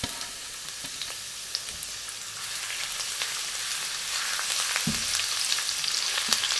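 Garlic frying in a hot wok, a steady bright sizzle throughout with occasional clinks and scrapes of stirring, close and fairly loud.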